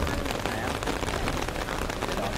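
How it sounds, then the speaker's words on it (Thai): Steady rain pouring outdoors at a street gathering in Phaya Thai, Bangkok, a dense, unbroken hiss that fills the whole stretch at close range with no voices. "ตอนนี้ฝนตกนะคะ"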